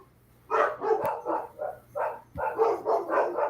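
A dog barks in a string of repeated, fairly close woofs and yips, with a short gap in the middle, somewhere in a home where beer is being sampled.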